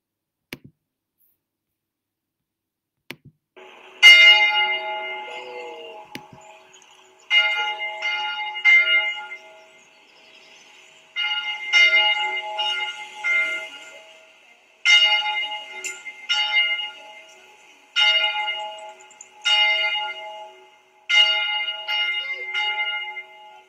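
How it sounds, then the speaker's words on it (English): Church bells ring in repeated clustered peals, bright and resonant, each group of strikes fading before the next, after a brief quiet start. "first of all, we listen to our church bells."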